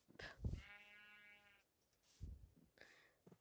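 Two or three sheep bleats in a Minecraft-style video game, quiet and somewhat distant, with one long wavering bleat between shorter calls.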